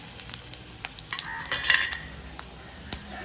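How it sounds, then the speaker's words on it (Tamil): Whole spices tempering in hot oil for vatha kuzhambu, a faint sizzle with scattered small crackles and pops and a brief louder spatter in the middle, close and quiet, no talking. "எண்ணெய் நல்லா காஞ்சிருச்சு இந்த தாலி பத்தனையும் மொத்தமாக போட்டு தாளிச்சிடலாம்"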